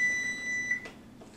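A kitchen timer beeps at close range with a steady high electronic tone during pressure-cooker decompression, sounding for most of the clip before stopping abruptly, with faint kitchen background noise after.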